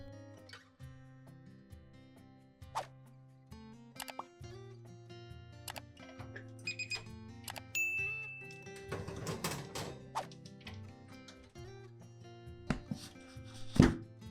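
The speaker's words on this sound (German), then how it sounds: "Da die Oberfläche meines Baisers getrocknet ist, splittert es natürlich beim Anschneiden" Knife slicing through dried, crisp meringue on a rhubarb cake, faint crackling and splintering crunches scattered through the cut, with a denser burst of crumbling near the middle, plus soft taps and clinks against the plate over quiet background music.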